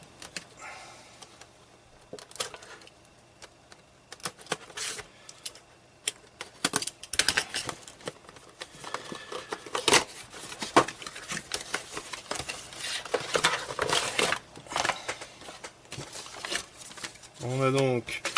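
Cardboard and plastic packaging of a Logitech C920 HD Pro webcam is handled and opened up close, giving irregular crinkles, taps and scrapes, with a person speaking at times.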